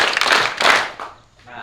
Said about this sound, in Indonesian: 3 tepukan untuk Devin